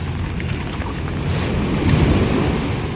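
Ocean waves roll in at the seashore near a small boat, a steady rushing surf that swells slightly midway, with wind buffeting the microphone and no voices.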